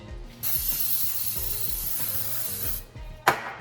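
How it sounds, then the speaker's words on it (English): A steady hiss of aerosol cooking spray onto a baking dish runs for a couple of seconds, stopping and then giving one short final burst, close and fairly loud. "I'm going to spray my dish"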